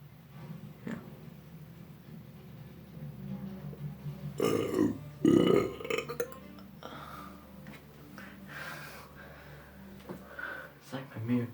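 A few loud burps from a person, bursting out around the middle amid casual talk, with other voices chatting near the mic before and after.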